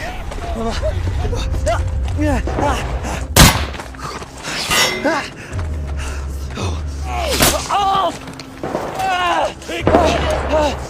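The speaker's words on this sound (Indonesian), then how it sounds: "suara tembakan kembali terdengar dan mengenai kaki Isaac" Several sharp, loud gunshots crack out amid dramatic film sound, with a deep rumbling score and tense vocal gasps between the blasts.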